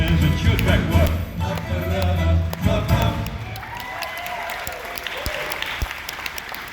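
An audience at an Answers in Genesis talk breaks into clapping and some cheering, strongest at first and then thinning out, partly overlapping a voice near the start.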